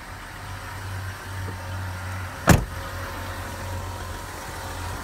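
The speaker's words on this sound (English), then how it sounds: "Three-liter Mercedes diesel engine." A three-litre Mercedes diesel engine in a Winnebago Navion motorhome idles with a steady low rumble, interrupted midway by one sharp clunk; no one speaks.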